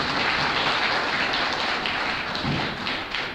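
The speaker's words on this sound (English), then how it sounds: "giving them a round of applause" Audience applause for the Baltimore PPA, a dense crackle of many clapping hands, loud and steady, tapering slightly near the end with no voices over it.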